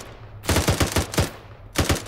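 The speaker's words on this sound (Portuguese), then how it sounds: "Olha, estou a receber tiro, meu." Automatic gunfire in the military video game Arma, coming in several rapid bursts of sharp, loud shots with short pauses between volleys, no talking.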